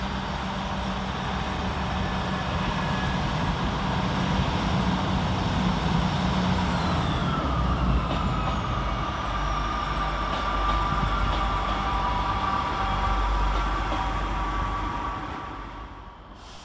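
A Class 158 diesel multiple unit pulls out of Bradford Interchange station running five minutes late, its engine giving a loud, steady rumble with a rising whine that fades away at the end.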